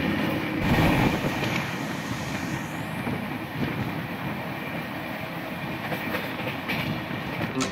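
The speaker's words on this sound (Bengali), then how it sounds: "ওদিকে কিন্তু শতাব্দী তার নিজস্ব গতিতেই এগোতে থাকলো" Shatabdi Express 12041 on its Howrah to New Jalpaiguri run, rolling along the rails with a steady, loud broadband rumble and rattle that never lets up, heard from on board with no voices.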